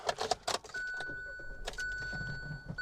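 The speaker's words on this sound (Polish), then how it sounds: "Już szukam kluczyka i go zapalamy." A Hyundai i-series petrol car is started with the key: keys jangle at first, then a chime tone sounds and the engine catches into a low steady idle, heard up close inside the cabin.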